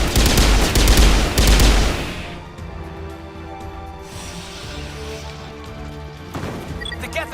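Dense bursts of rapid gunfire in the Mass Effect video game crash loudly for about two seconds, then fade into a quieter tonal hum, with a brief renewed clatter near the end.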